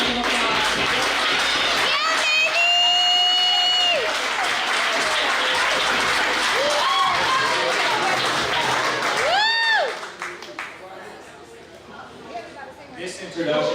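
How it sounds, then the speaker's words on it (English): Loud, sustained applause from an awards-ceremony crowd honoring a recipient, dense clapping with voices and cheers mixed in, tapering off toward the end as the room settles. "Let's give him a round of applause"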